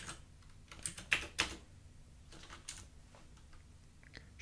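Someone types on a computer keyboard, with a few scattered, close key clicks and short pauses in between against a quiet background.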